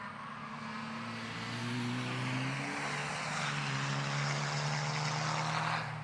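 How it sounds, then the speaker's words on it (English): A turbocharged race car engine runs with no muffler, a steady droning tone that rises a little in pitch and holds at a moderate, surprisingly subdued level, alone. "It's amazing how quiet that car is with no muffler on it at all"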